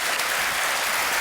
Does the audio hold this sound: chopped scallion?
no